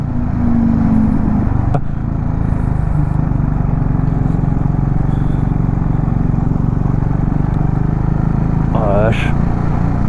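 A KTM 690 Duke R motorcycle drones loudly and continuously while overtaking on a Pyrenees mountain road, its engine buried in heavy wind roar, with a sharp knock early on and a voice briefly heard near the end.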